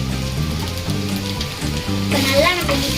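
Noodles sizzle and fry steadily in a hot pan while being stirred, a continuous crackling hiss that swells louder in the final second, with a voice talking over it throughout.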